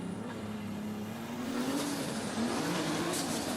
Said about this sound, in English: Car seemed to be having some misfire issues just now.